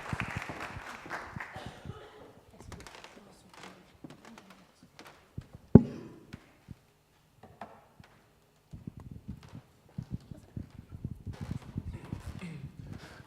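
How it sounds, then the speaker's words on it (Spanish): Audience at a migration and development congress in Chile clapping for a speaker, scattered hand claps of a modest crowd in a hall, sparse at first, then a fuller burst of applause toward the end. "Un fuerte aplauso para nuestro charlista en esta mañana"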